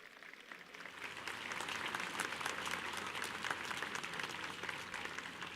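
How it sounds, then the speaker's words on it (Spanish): A church crowd claps steadily at a canonization celebration in Bolivia, the applause swelling after a moment and holding at an even, moderate level to the end. "Fuerte aplauso a nuestra Madre."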